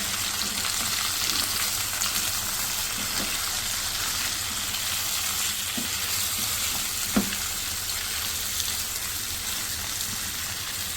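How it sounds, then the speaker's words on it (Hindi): Potato masala sizzles in a pan over a high flame, a steady soft crackle and hiss with a few faint taps, alone and fairly quiet. "चार से 5 मिनट इसको मैं तेज़ आंच पर थोड़ा सा फ्राई करूँगी"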